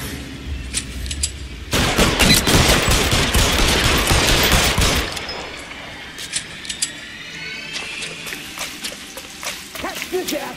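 Gunfire in the video game L.A. Noire: a dense, loud burst of rapid shots for a few seconds, then scattered sharper pops, with a voice talking over parts of it.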